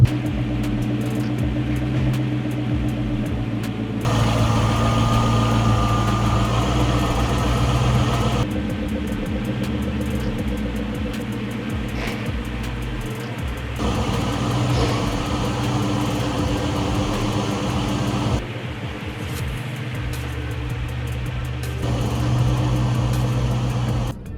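A 2003 Ford SVT Cobra engine idles with a steady, even mid-pitched rumble that runs throughout, its tone shifting abruptly in places as if between separate takes, with no talking.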